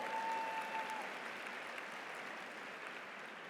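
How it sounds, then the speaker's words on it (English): Applause from the crowd at a Spelman College commencement ceremony, a steady wash of clapping that fades gently over a few seconds. "give her a great applause"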